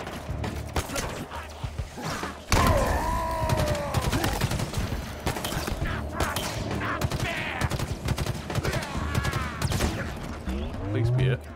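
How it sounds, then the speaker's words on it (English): Relentless gunfire in the Halo Infinite campaign: dense bursts of shots, impacts and metallic clatter pile up at close range for several seconds, with game effects and someone talking over the barrage. "Every time I step out up here, I'm getting impaled with bullets."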